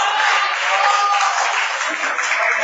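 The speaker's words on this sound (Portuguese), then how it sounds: "Dá uma salva de palmas para Jesus" A church congregation claps in a steady, dense wash of applause that holds at an even loudness from start to finish.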